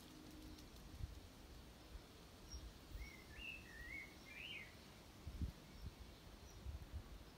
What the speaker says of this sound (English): So I'm just listening to the birds.